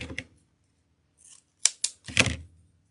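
Scissors snip a fabric tail on a lamb's ear spring wreath, making several sharp close cuts in a quiet room, with short pauses between the clicks.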